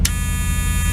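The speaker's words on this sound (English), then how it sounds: "I bought this little buzzer at Radio Shack and put that in." A small buzzer bought at Radio Shack and installed in a truck gives a steady, fairly loud electronic tone over a low hum, with a short sharp burst at the very start.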